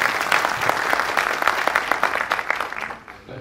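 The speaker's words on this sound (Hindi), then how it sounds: "थोड़ा तालियां थोड़ा ज्यादा होनी चाहिए।" An audience at a general body meeting applauds, a dense stretch of many hands clapping at moderate level that fades out over the final half second.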